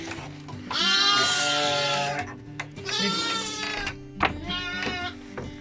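Lambs and sheep on a farm bleat loudly and close by in three long, wavering calls with brief pauses between them, with some low background noise and no talk.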